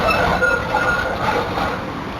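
A train rumbles at Richmond station in Melbourne, a continuous close rolling rail noise with faint wheel squeal and clatter, alone without talk.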